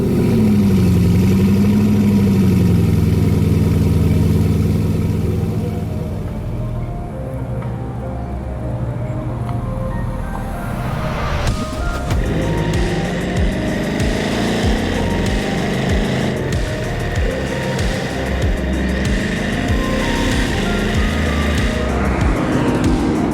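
A Bugatti Chiron La Mer Argentée W16 engine with 1500 horsepower fires up at the push of a button and settles into a deep, steady idle, then rises into a louder, rougher running note that continues close and unbroken, with no talk over it.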